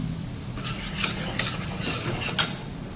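A spoon stirs and scrapes through puffed rice in a pan of tempered oil with turmeric, with soft rustling, a faint sizzle and a few light metallic clinks.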